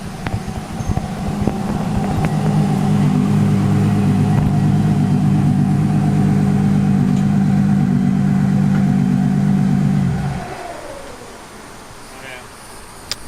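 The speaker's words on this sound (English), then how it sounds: "I hear some cars. Who's pulling up?" Car engines idling and rumbling outside a garage where a supercharged KA24DE is going back into an S14 drift car, a loud steady drone for about ten seconds that then cuts off, followed by quiet.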